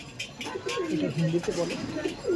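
Old-line Giribaj pigeons coo close by, repeated soft throaty rolling calls in quick succession, with people talking nearby.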